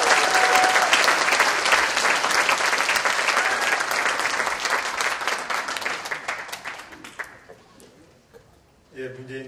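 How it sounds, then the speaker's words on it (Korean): Loud crowd applause fills the room at a policy expo closing ceremony, holding steady before gradually fading out, then a voice begins speaking at the very end. "여러분 뜨거운 박수로 맞이해 주시기 바랍니다."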